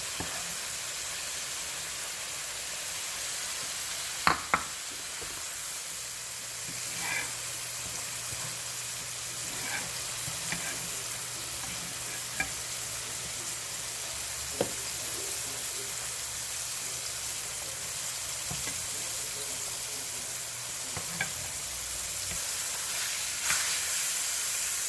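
Cube steak frying in a pan gives off a steady, faint sizzle and hiss, with a few sharp pops and clicks scattered across it and a soft low hum in the middle stretch, and no talking.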